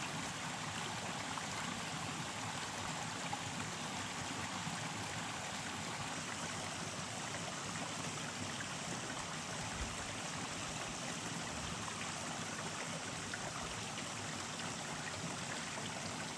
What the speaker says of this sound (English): there's a lot of running water this time